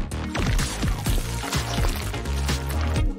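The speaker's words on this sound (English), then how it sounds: "Pour it into a dog biscuit mold." Blended mint yogurt mixture pours steadily into a dog biscuit mold with a continuous liquid gurgle and repeated splashy plops, close and fairly loud, no talking.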